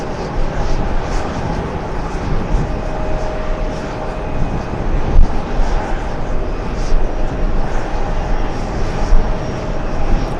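A jet airliner with large GE90 engines roars at JFK airport, a loud sustained rumble that swells slightly midway, with faint voices in the background.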